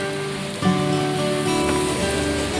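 Steady rain falls outside near a mosque on the road between Surabaya and Madiun, a constant dense patter heard close and loud with no voices.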